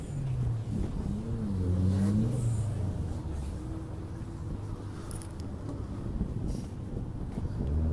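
An Aston Martin V12 Vantage at an outdoor car gathering accelerates, its engine rising and falling in pitch at mid distance amid wind noise and a crowd, fairly subdued overall.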